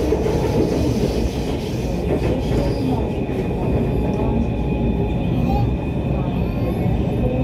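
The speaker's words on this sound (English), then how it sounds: "You got the old trains there." Old trains near Lahore railway station give off a continuous heavy rumble with faint rhythmic clatter, loud and close, with voices talking over the noise.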